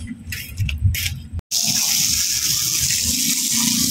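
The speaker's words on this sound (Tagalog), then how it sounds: "Tinitirahan ko lang ng tubig sa hose." Water from a hose gushing onto an aquarium filter during cleaning: a few splashy bursts, a brief break, then a strong continuous rushing spray close by.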